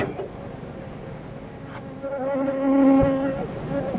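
Honey bees buzz around hive frames and super boxes, a close, wavering drone that swells louder midway and stays constant throughout.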